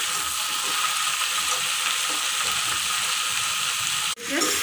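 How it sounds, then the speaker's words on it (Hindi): Mixed vegetables sauté in a pan with a loud, unbroken sizzle and faint stirring scrapes, ending in an abrupt brief cut near the end. "अभी हम इसको अच्छे से पहले हम भून लेंगे"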